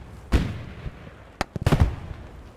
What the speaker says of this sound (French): J'ai tiré dedans au bazooka